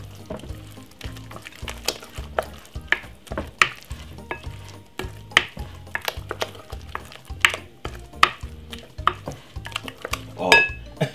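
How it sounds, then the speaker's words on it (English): A whisk works through coconut toto cake batter in a bowl, giving a steady run of rhythmic scraping and clicking strokes against the sides, close and fairly loud with no talking. "Give it a whisk."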